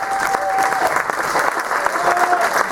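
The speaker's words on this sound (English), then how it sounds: "let's give the discount comedy check out a big round of applause as we send them off" Audience applause sending off a comedy act at an adult-only online comedy show, a steady dense clapping wash throughout, with a few faint voices or whistles mixed in.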